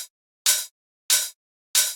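A bright 909 hi-hat sample layered with a noisy shaker hits three times at an even pace, each crisp, airy burst cutting off short, with no talk.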